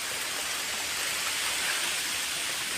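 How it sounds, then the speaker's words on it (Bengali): Steady, dense rain hisses without a break during Cyclone Remal, a uniform wash of falling water with no voices or other distinct sounds. "বৃষ্টি পড়েই যাচ্ছে, সকাল থেকে বৃষ্টি হয়ে যাচ্ছে, নিম্নচাপ লেগে গেছে যাকে বলতে হয়।"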